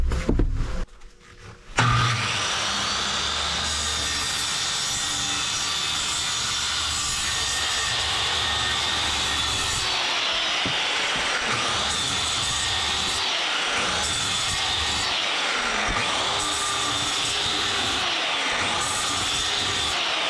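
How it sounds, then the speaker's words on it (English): Circular saw set to a very shallow depth scoring rough sawn scrap lumber, a loud sustained whine with repeated rising and falling passes as the blade runs across the board. "set a really low depth on the skill saw and scar it up"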